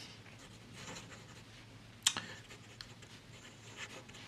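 Fountain pen nib writing with Diamine Bilberry ink across smooth Rhodia paper, a faint, soft scratching run with one sharper tap midway, quiet and close with no talking.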